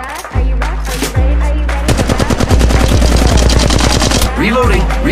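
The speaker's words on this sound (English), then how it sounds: "They're shooting at me" Machine gun fire in the video game Apex Legends: loud, close rapid bursts of automatic shots in a fast rhythmic stream, with brief gaps between volleys.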